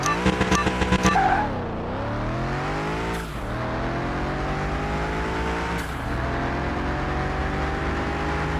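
A tuned Gen 2 Camaro with a two-carb OHV engine squeals its tires at launch in Car Mechanic Simulator 21, then the engine drones and climbs through gear shifts, loud and steady.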